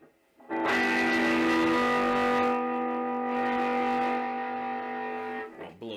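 A Gretsch Streamliner G2655 electric guitar plays a sustained distorted chord that rings out loudly for several seconds, thick and gritty, then cuts off with a brief scrape near the end.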